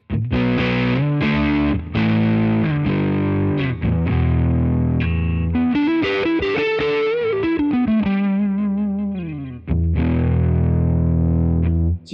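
An electric guitar played through a Tone King preamp pedal rings out in loud, distorted chords and sliding bends, with sustained notes and a brief pause before the strumming resumes.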